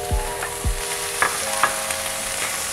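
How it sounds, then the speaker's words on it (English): Chopped onions and jalapeño sizzle steadily in a hot pan, with a few soft scrapes and taps of stirring over the continuous frying hiss, no voices. "And then I'm tossing in the onions. I'm gonna let these saute for about 2 to 3 minutes"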